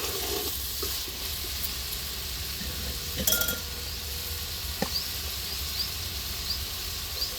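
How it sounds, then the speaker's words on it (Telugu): Masala with poppy seeds, coriander and mushrooms sizzling in a pan as it is stirred, a steady soft frying hiss broken by a few light clinks and scrapes of the spoon. "మసాలా వేగింది కదా, గసగసాలు ధనియాలు పుట్టకొక్కులు వేసాను"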